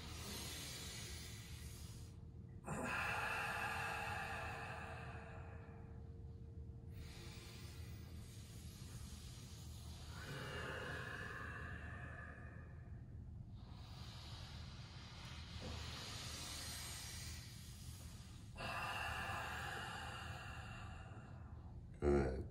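Slow, deep yoga breaths drawn in and let out, heard as long airy hissing swells that rise and fade over a quiet background, close to the ear.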